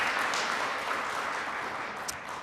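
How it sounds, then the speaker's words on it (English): An audience at a day-two conference session applauding, a dense, steady wash of clapping from many hands that holds fairly even for a couple of seconds before easing slightly, heard alone without talk. "give a round of applause to our events team, our AV team, and our facilities teams"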